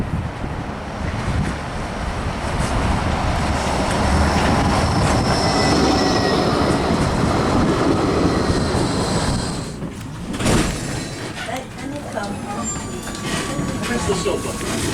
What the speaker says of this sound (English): catch this tram just to go up to North Pier